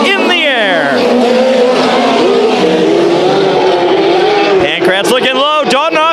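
Race cars roar around a dirt speedway track at Bakersfield Speedway, engines loud and close with rising and falling revs and tire noise, all under an excited announcer's continuous commentary.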